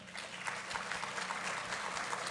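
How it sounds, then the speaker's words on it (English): A school board meeting audience applauds in steady, even clapping that carries at a moderate, slightly distant level for the whole stretch, with no voices standing out. "Round of applause"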